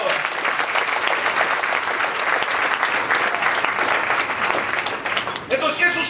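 A church congregation claps for Jesus during a Spanish-language service in loud, sustained applause that fills the room for about six seconds, with a brief dip and a slight disturbance near the end.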